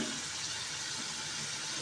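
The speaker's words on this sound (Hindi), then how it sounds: "हम इसके अंदर पानी डालेंगे।" Water poured into soaked, washed rice for chicken kofta pulao, a steady, soft rushing splash that runs unbroken and fairly faint, with no voices over it.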